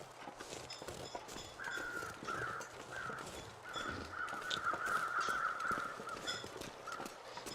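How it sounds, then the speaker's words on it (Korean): Crows caw repeatedly at a distance in the survival video game The Long Dark, forming a steady run of harsh calls over ambient game noise with soft thuds like footsteps. "까마귀들이 난리가 나는데"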